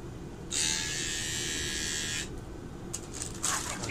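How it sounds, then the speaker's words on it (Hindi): A new electric hair trimmer, freshly unboxed, buzzes steadily and close for under two seconds, then cuts off, followed by a few light handling clicks. "ये है ट्रिमर मशीन।"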